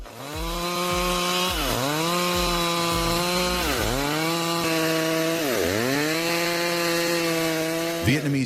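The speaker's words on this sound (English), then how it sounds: "A large log can be transformed into perfectly even planks with just a chainsaw." A Stihl MS 382 chainsaw rips lengthwise through a large log to cut planks, its engine screaming loud and close in a sustained whine that dips and recovers several times as the chain bites into the wood.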